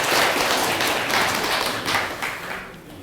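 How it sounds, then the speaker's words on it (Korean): Audience applause in a Korean Buddhist dharma talk hall, a dense burst of clapping from a seated crowd that swells then fades over a few seconds, with no voices over it. "박수 한번 주세요."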